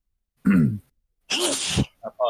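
A single sharp sneeze during a tabletop Dungeons & Dragons session, close and loud, followed by other short vocal bursts.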